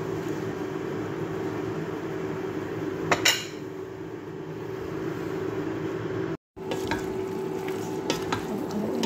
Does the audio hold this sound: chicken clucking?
no